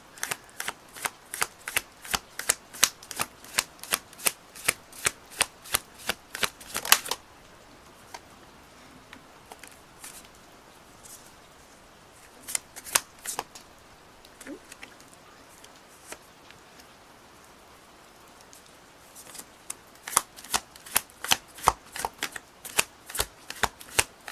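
Rapid riffle shuffling of tarot cards, crisp fluttering bursts repeated in quick succession, pausing for a stretch of near silence before resuming.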